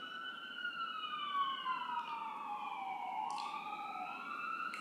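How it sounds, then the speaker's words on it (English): A wailing emergency vehicle siren rises and falls continuously, with a second siren tone layered in. It sounds steady and moderately distant, and a brief horn-like blast cuts in near the end, with no talking. "here come the sirens"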